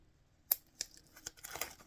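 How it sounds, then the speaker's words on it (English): Wax paper backing peeled off adhesive tape, a few sharp crackling snaps followed by a brief rustling tear, close and quiet. "This wax paper never comes up on the first try."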